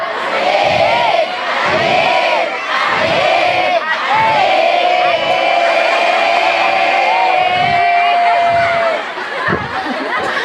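A religious lecture audience in Sukabumi shouts "ajib" together in one long, loud, sustained chant, with rhythmic bursts of crowd voices and cheering.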